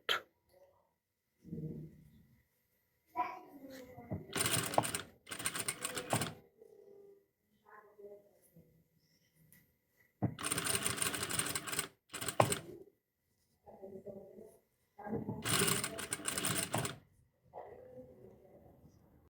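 A sewing machine stitches a tank top seam in several loud, rapid bursts separated by pauses. Quieter handling noises and brief speech fill the gaps between runs.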